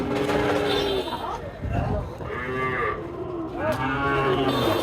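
Young bulls at a cattle market moo several times, the drawn-out calls loud and close, overlapping with people talking and general market bustle.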